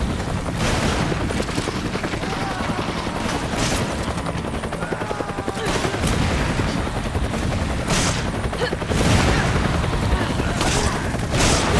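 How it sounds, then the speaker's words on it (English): Bursts of rapid gunfire in the video game Resident Evil 5 crackle over a constant loud rotor-like roar, with several sharp volleys and booms spaced through the busy, noisy scene. "I can hear gunfire"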